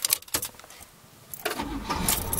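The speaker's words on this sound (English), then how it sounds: "Fires right off." A 1977 Pontiac Bonneville Brougham Landau coupe with an Olds 403 V8 and a small hole in its muffler cranks and fires right off. A few sharp clicks come first, then the engine settles into a steady, close-up, low rumbling idle.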